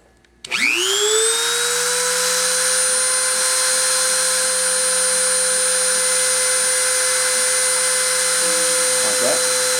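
Surface grinding machine spinning up and grinding aluminum oxide at a slow feed, a sharp rising whine that settles into a loud, steady high-pitched tonal grind with a faint background hum.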